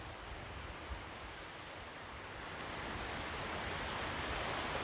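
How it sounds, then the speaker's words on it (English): Ocean waves wash onto the shore at the Mackinac Straits, a steady broad roar of surf that swells slightly louder toward the end, with no voices over it. "The waves are making a lot of noise, and you might not be able to hear me, but I like the sound of the waves."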